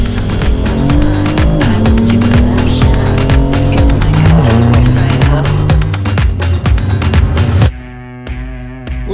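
BMW M4 fitted with an Active Autowerk equal-length mid-pipe and a remapped engine, driving with a loud, continuous engine and exhaust note that rises and falls through revs, then drops away to a quieter idle near the end.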